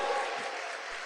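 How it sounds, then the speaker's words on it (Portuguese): Congregation applause during a church homily, a brief steady wash of clapping heard at moderate distance without any talk. "Pode dar uma salva de palmas para ele."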